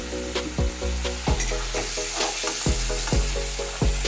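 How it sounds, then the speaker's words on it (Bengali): Shrimp sizzle in a hot pan for a Bengali cabbage and prawn dish, a continuous frying hiss punctuated by regular sharp scrapes of a spatula turning them, close and fairly loud. "এর থেকে বেশি আমি ভাজবো না হালকা ভাজবো তাই আমি তুলে নিলাম"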